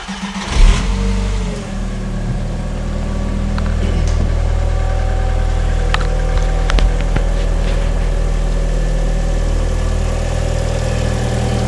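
A 1.8 turbo engine in a 1999 Audi TT 8N idles steadily and smoothly close by, a low even hum with a brief rev near the start and no voices.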